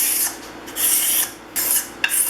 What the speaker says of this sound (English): using my scraper with a burr on the edge. The scraping is a pretty straightforward process